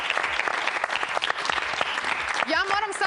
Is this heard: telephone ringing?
no